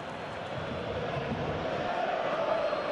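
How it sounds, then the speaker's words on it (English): A football stadium crowd in PES 2021 roars after a Quaresma goal against Celtic in the Champions League, a steady, broad wash of cheering and clapping that swells slightly, with no individual voices standing out. "Even some of the opposing fans are clapping that."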